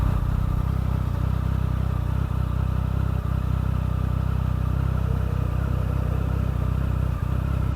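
A Triumph Speed Triple motorcycle engine drones steadily and loudly throughout a ride, a constant low rumble with mechanical clatter and no clear revving peaks.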